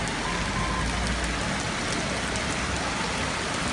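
Extremely heavy rain pours down steadily during a thunderstorm in Cologne, a dense, loud, continuous hiss and roar of downpour on street surfaces with no pauses.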